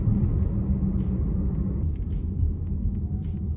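Dodge Challenger R/T engine pulling from low revs, a steady loud rumble with a deep low-end drone that holds throughout, heard close and alone with no talking.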